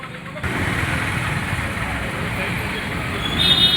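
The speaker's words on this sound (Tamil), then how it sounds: "இங்கே டிராஃபிக் ரொம்ப அதிகம்" Heavy street traffic on a busy road outside the Murugan temple in Vellore, a steady close wash of engines and road noise with a brief higher horn-like tone near the end.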